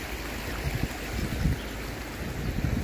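Steady, even rush of the Valencia River flowing, a continuous broadband wash with faint low splashes and no voices.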